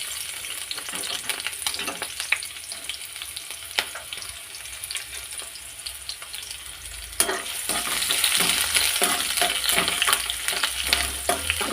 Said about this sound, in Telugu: ఆయిల్ అయితే వేడి అయింది. ఆనియన్ వేసుకుంటున్నాను.